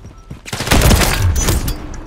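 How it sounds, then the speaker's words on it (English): Video-game gunfire in a tactical round erupts as a loud, dense fusillade of rapid shots, building after a brief lull and hammering on close and continuous for about a second and a half. "I'm taking fire!"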